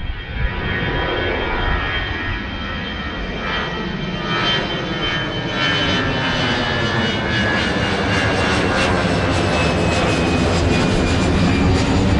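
A fixed-wing aircraft passes near an airport in the Algarve, Portugal, its engine roar loud and steady throughout, swelling slightly with a high whine over a broad rushing noise, with no voices.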